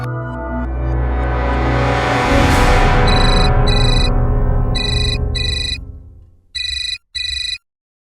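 A telephone ringing loudly and close, a bright electronic ringtone that plays in repeated bursts for several seconds, the last two short rings coming after a swelling sweep of music dies away.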